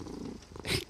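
Pet cat curled up close beside a person at night, purring softly and steadily at close range, with the sound swelling briefly near the end; no talking.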